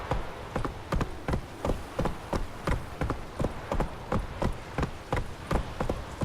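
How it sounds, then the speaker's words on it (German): Horse hooves clip-clop steadily at a brisk walking pace in The Witcher 3 video game, with even, close, moderately loud hoofbeats and no talking. "Oh, mein lieber Pferdchen, komm, komm."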